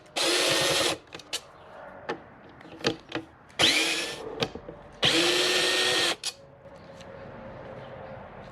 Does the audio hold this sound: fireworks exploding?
no